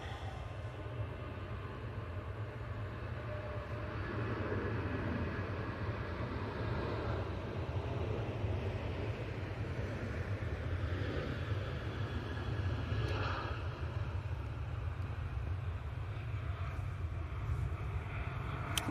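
A KLM Boeing 737 rolls down the runway for takeoff, its engines making a steady, fairly distant low rumble and roar that holds throughout.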